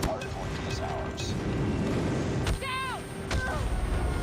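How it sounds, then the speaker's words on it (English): Airstrike explosions rumble through a Call of Duty Mobile match, a dense low booming barrage under game voice announcements and chirpy effects, with a couple of sharp impacts standing out. "Friendly airstrike incoming"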